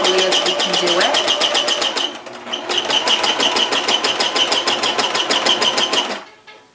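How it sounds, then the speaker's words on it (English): Sewing machine stitching a zipper onto a pillow cover, a loud, close, rapid mechanical rattle that pauses briefly, resumes at a steady pace and then winds down to a stop. "I'm just going to go ahead and stitch slowly, guiding it along that guider, carefully as we can do it."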